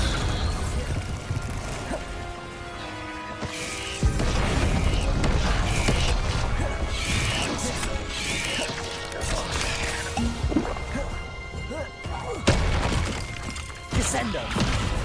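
Bombarda blasting spells in Hogwarts Legacy smash objects with loud crashing impacts and debris clatter, several bursts in succession amid shouted spell incantations and dense game effects.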